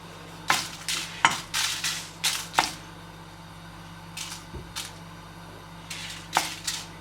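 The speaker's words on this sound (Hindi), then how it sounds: "और इसे यहाँ पे ड्राई रोस्ट करेंगे" Dry red chilies roast in an empty oil-free frying pan for curry masala powder, a faint quiet background broken by several short sharp scrapes and taps as they are tossed.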